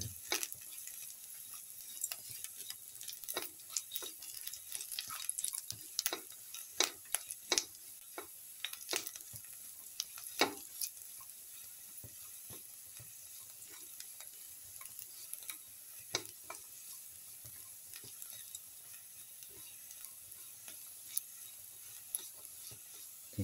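Garlic frying in a pan during cooking for a black pepper red snapper bowl, with steady sizzle under irregular scraping and stirring clicks, near and moderately quiet, no talking.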